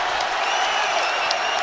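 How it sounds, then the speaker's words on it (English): A basketball arena crowd roars and applauds in a dense, continuous wash of cheering, with scattered whistles rising above the noise. "Now the crowd comes alive"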